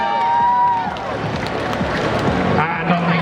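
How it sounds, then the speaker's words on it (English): An arena crowd at a robot combat event claps and cheers for the fighting robot Pendulum, a loud, dense wash of applause with a commentator's voice talking over it. "let's have a big round of applause for Pendulum"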